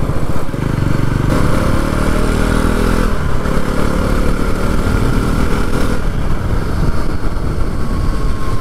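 A Bajaj Pulsar NS400 motorcycle engine in sport mode roars steadily and loudly up close, revving hard with throttle changes throughout, no voices.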